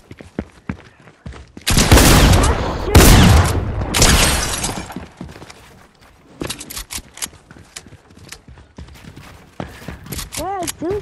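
Bursts of video game gunfire from a hide-and-seek round in a one-on-one match, loud dense volleys crowding the first few seconds, then sparser shots while people talk throughout.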